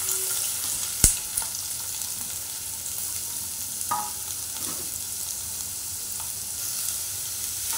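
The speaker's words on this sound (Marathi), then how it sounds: "आता छान ढवळून घेऊया कांदा" Finely chopped onions and green chilies frying in hot oil, a soft continuous hiss with one sharp clack of the spoon early on and a few quieter scrapes as they are stirred, close and without talk.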